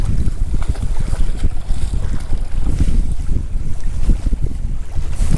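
Strong headwind gusting across a boat at sea during saltwater light rock fishing, a steady rushing roar with buffeting microphone wind noise and lapping water, loud and continuous with no talking.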